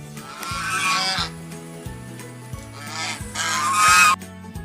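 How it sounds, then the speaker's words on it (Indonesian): A goose honks repeatedly in loud, close, nasal calls, several honks in an uneven rhythm with no other voices. "dan suara angsa."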